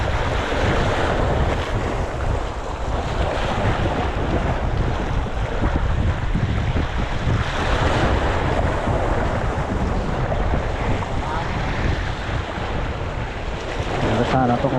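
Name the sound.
strong sea waves by a fishing boat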